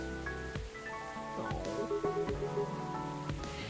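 Steady rain falls as ambience in the video game Coffee Talk, a soft continuous patter running under gentle background music with no talk.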